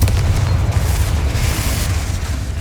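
Confringo explosion spell blasting eggs in the Hogwarts Legacy video game: a heavy, booming roar that fills the whole stretch at a steady loud level, with no talking.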